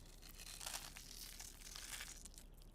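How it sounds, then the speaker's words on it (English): Salt flakes crushed between the fingers over chicken in a kitchen, a steady dry crinkling crunch that runs continuously, close and quiet, with no talking. "Need a crunch of salt."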